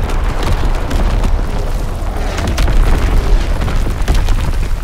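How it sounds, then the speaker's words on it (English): Incoming enemy artillery in an Xbox One war game, a loud, sustained barrage of booming blasts and rumbling detonations blending into a continuous roar. "Incoming enemy artillery. Get to cover."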